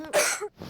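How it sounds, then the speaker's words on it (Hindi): A woman coughs once, a short throaty cough close by that is quickly followed by a softer breath. "अरे वो खांस रही है"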